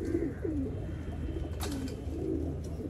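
Pigeons cooing in soft repeated low warbles over a steady background rumble, with a brief flutter or scrape midway.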